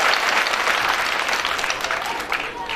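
A school annual function audience claps steadily and enthusiastically throughout, a dense crowd applause heard fairly close.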